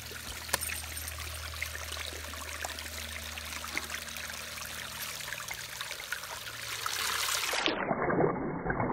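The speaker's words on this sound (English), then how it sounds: "There's a waterfall up here." A small waterfall in the Sipsey Wilderness splashes and trickles steadily at moderate distance, a continuous pouring hiss under a low rumble that swells slightly near the end.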